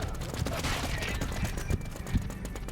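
Gunfire in the online zombie shooter WarZ, a dense run of sharp shots and bursts under constant game noise and background chatter, with a louder crack near the end.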